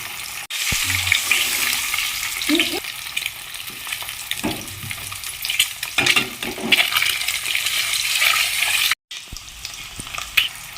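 Eggs frying in oil in a pan that is shaken, a loud, close, crackling sizzle with intermittent rattles and scrapes, briefly cut off near the end before resuming, no voices.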